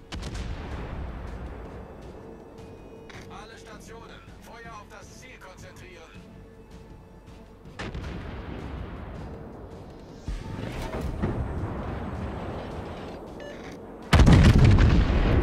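The main guns of the Yamato battleship in the World of Warships video game fire in heavy booms, with a few loud blasts later in the stretch rising sharply over the ongoing game soundscape.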